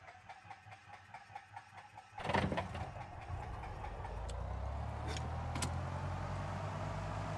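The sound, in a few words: Cessna 172SP engine starting, from video game X-Plane 10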